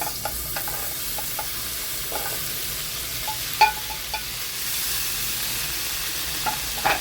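Paneer toasting in melted butter in a pan, a low steady sizzle with occasional soft stirring knocks and clicks throughout, no voices.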